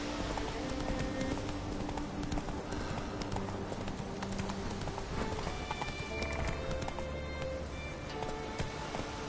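Roach the horse gallops in The Witcher video game, with a steady, rapid clip-clop of hooves running throughout and no spoken voice over it.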